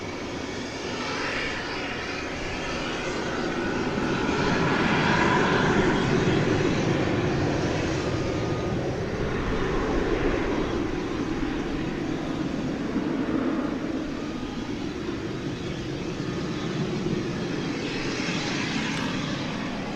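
Airliner taking off at night at DFW Airport, a steady broad jet roar that swells toward the middle and holds at moderate distance for the whole stretch, with no talk over it.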